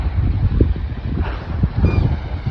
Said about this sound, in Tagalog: May hangin na. Makinig na mga hangin oh.